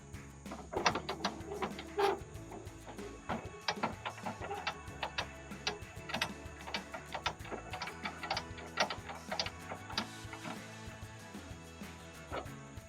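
Pop-up camper stabilizer jacks being lowered at a campsite, giving a steady run of close, fast mechanical clicks and ratcheting ticks over a faint high whine.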